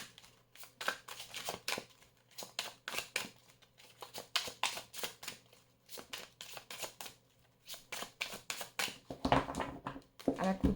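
An oracle card deck being shuffled and cut: irregular bursts of papery flicking and slapping with short pauses between them, ending in a louder rustle, with quiet speech in the background.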